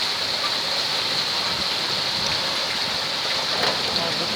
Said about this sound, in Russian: лежат. Не так большая шапка еще. Дождь.